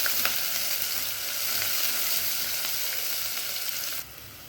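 Small onions sautéing in a pan for a horse gram dal, a steady close sizzle and crackle with a few faint stirring clicks, dropping slightly quieter near the end, no voices.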